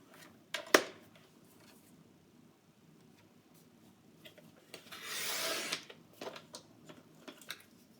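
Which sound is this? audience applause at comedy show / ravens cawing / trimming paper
trimming paper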